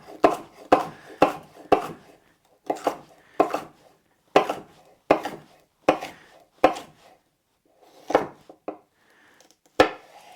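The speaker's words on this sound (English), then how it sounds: "So for the fajitas, I'll cut them into strips." Meat being cut into strips for fajitas, a series of sharp knife thuds on a cutting board in an irregular rhythm with short pauses, close and loud with no talking.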